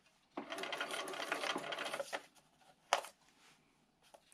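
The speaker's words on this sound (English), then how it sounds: "I'm going to start stitching about 1 to 2 stitches past this line, and I'll continue stitching all the way through" A sewing machine stitches a paper-pieced spool quilt block in one steady run of about two seconds, close and fairly quiet, followed by a few isolated clicks and a brief thump.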